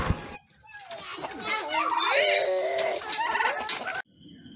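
A hen clucks close by at a family home with pets, with children's voices talking and playing over and around the clucks.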